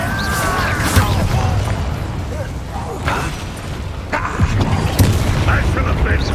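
A fire spell in the Hogwarts Legacy video game bursts out with deep booming whooshes and crackling blasts, loud and close, and a few spoken lines mixed in.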